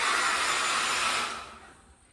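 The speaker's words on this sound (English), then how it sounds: "Always handy to have a little blow dryer on hand." A small handheld blow dryer roars steadily at close range while drying paint on a skateboard deck, a loud continuous airy rush that fades out near the end, with no talking.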